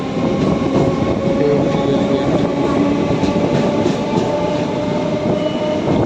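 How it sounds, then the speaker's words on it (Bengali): A train at an Indian railway station, a loud continuous rumble of rolling wheels and carriages close by, steady throughout with no talking. "ট্রেন"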